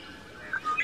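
A bird gives a brief chirp in a park, a short rising tweet close by over faint background.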